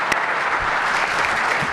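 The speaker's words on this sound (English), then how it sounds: "A round of applause from the House as Chris Miller concludes the introductory press conference" Applause from the room at the end of an introductory basketball press conference, a short steady burst of clapping heard close and alone.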